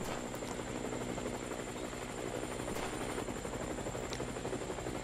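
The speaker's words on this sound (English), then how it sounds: "I don't know what the helicopter does." A helicopter in the video game Ashore, a steady rhythmic rotor thump with a droning buzz, constant and fairly faint as it hovers overhead, with no voices.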